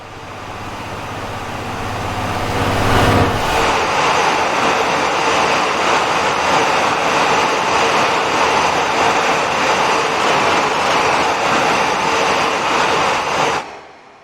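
A Class 66 diesel locomotive, 66529, powers through Falkingham Central in a train simulator. A loud, broad, steady rumble builds over the first few seconds, holds strong and close, then cuts off abruptly near the end, with no voices.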